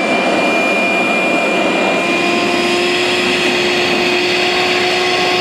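A DeWalt cordless dust extractor with its filter removed, vacuuming up water: a loud, steady high-pitched whine with a rushing suction hiss and faint gurgle, continuous and close, no talk.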